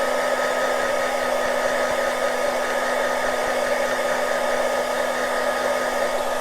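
A heat gun blows hot air over a metal-look craft embellishment on Formica, a loud, steady whooshing roar with a constant motor whine and no talking.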